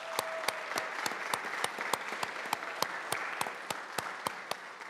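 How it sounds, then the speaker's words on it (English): Moderately quiet applause from a gathered audience at a Connections for the Homeless milestone celebration, a dense, even patter of clapping with regularly spaced louder claps running throughout and no talking. "let's give her a big round of applause"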